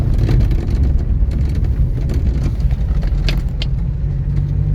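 A 1974 Honda Civic rolls over a bumpy country road, its engine droning steadily up close with road rumble, light rattles and occasional knocks from the uneven surface, no talking.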